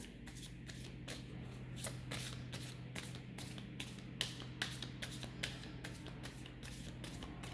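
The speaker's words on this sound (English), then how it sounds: "first I'm going to clear the cards from the previous reading" Tarot cards being shuffled by hand, a steady run of crisp riffling flicks and soft slaps repeating through the clip at close range, with a low steady hum underneath.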